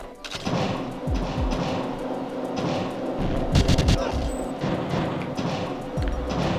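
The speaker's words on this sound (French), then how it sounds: "On laisse une grenade." A grenade blast in GoldenEye 64 booms out amid scattered gunshot-like bangs, several thumps spread across the passage alongside talk.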